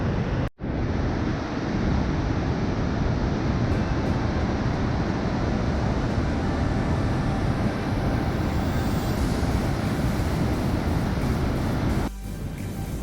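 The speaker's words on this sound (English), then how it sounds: "The Augrabies waterfalls." Augrabies waterfall roaring at the falls, a loud, unbroken broadband rush that fills the whole stretch after a brief dropout at the start, steady and close with a slight change near the end and no voices.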